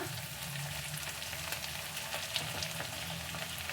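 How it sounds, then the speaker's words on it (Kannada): Drumstick leaves and egg fry in oil over a fairly high flame, giving off a steady, soft crackling sizzle that runs the whole time without any voices. "ಎಣ್ಣೆಲ್ಲ ಹಾಕ್ಕೊಂಡು ಚೆನ್ನಾಗಿ ಫ್ರೈ ಮಾಡ್ಕೊಳ್ಳಿ."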